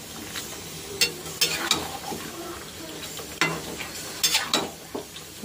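Spiced meat curry stirred in a pan with garlic paste, giving a series of scraping, sizzling strokes of a spoon against the pan over a steady low frying hiss, close and fairly loud.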